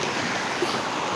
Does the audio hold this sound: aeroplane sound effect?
no